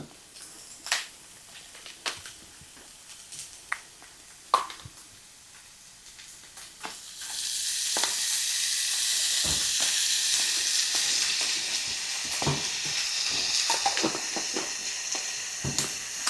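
Onions and garlic sautéing in a pan, scattered clicks and utensil taps at first, then a loud steady sizzle swells in and keeps going with occasional scrapes, close by and without speech.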